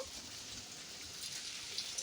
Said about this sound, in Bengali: এখন আর বৃষ্টি হচ্ছে কীরকম মানে থেমে যায় না একদম হতেই থাকে